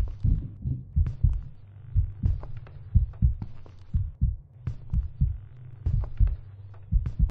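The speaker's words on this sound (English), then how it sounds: "Why is your heart beating so fast?" Rapid, heavy heartbeat thumping in a scary video game, a steady run of loud low double beats pounding without pause and with no talk over it.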